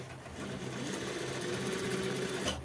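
A sewing machine stitches a nonwoven fabric bag with a steady, close mechanical whirr that runs without pause, no speech.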